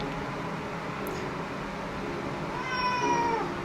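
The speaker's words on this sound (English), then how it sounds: "There's my cat." A house cat meows once, a drawn-out clear call rising over steady room hiss near the end, close and moderately loud.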